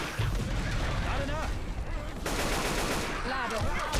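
Rapid automatic AK rifle fire in the zombie shooter game Left 4 Dead 2, dense loud bursts with crashing game effects filling the whole stretch.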